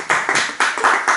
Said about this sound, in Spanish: Un aplauso a lo que ha hecho Novela en estos 3 horas.